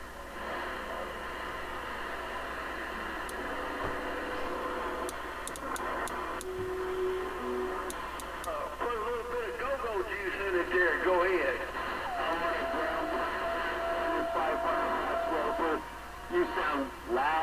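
A Cobra 89XLR base station CB radio is tuned across channels, giving hiss, static and clicks along with stretches of distant chatter from other operators.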